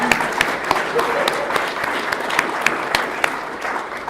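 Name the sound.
applause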